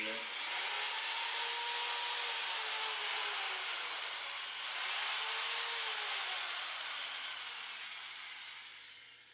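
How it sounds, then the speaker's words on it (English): An electric drill powered by a Jackery solar generator whines loudly and steadily for about nine seconds, its pitch sliding down under load, briefly recovering, then sagging again before easing off. "I'll try to edit that noise down a little bit on that drill"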